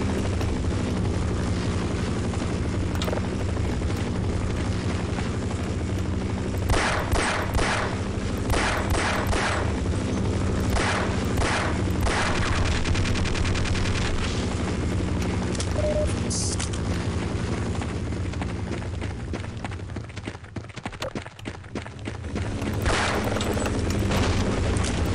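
Helicopter in Half-Life 1, a loud sustained rotor drone mixed with bursts of gunfire and explosions during combat, with no voices over it.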